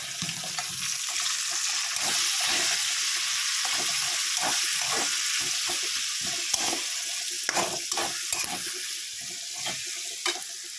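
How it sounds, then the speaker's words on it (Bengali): Chopped onions frying in a pan after cumin, a bright continuous sizzle close by, broken by repeated short clicks and scrapes of stirring throughout. "একটু ভেজে নেবো"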